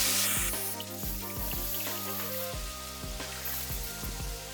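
Chicken pieces seared skin-side down in hot oil in a pan for chicken Alfredo, a steady sizzle with crackling pops and a few clinks, fairly quiet and close.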